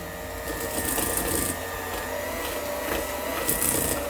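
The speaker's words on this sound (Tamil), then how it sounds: "இப்போ இதை பீட்டரால் அடிக்க போகிறேன்." An electric beater whirs continuously as it creams butter with sugar in a bowl for a chocolate cake, a close, steady mechanical drone with slight rises in pitch.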